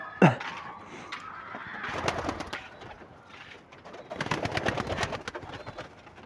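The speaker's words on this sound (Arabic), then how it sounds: "شوف الحمام طالما ما هوش خايف" Pigeons in a loft cooing, soft throaty calls rising and falling in two clusters, near and moderately quiet, with rustling and a sharp knock at the start.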